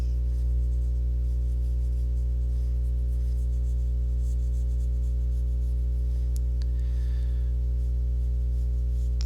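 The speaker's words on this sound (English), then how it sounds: "So I'm gonna sketch this eye shape." Pencil sketching an eye shape on paper while drawing a Kingdom Hearts character, faint soft scratchy strokes under a strong steady electrical hum, with one brief sharper tap.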